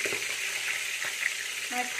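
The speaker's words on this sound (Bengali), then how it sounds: "তেল গরম হয়ে গেছে, মাছ একটা একটা করে ভেজে নেবো" Rohu fish pieces fry in hot oil in a kadai during a village-style cooking session, giving a steady close sizzle with occasional soft spatters and stirring sounds, and no clear talk.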